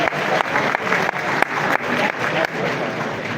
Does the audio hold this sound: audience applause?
yes